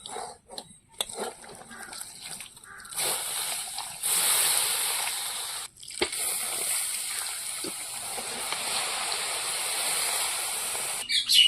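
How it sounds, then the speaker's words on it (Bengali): Milk pours into roasted semolina in a pan with a steady liquid rush and sizzle, broken by a few short gaps and surges, close and fairly loud. "সুজিতে পরিমাণ মতন দুধ দিয়ে দিয়েছি"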